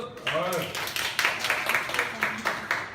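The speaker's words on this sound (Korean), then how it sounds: "네, 박수" A small group claps during a classroom-style teachers' talk, a brief voice first, then a scattering of quick, moderately close handclaps that thin out over a few seconds.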